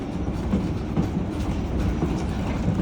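A Yosemite Mountain Sugar Pine Railroad train rolls along with a steady low rumble and faint repeating wheel clicks, moderately close and continuous without talk.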